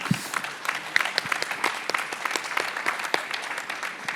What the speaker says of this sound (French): On peut applaudir Alexandra